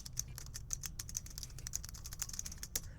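A mechanical keyboard is typed on up close in a fast, steady stream of crisp keystrokes, each with a bright, typewriter-like metallic clang, over a low background hum.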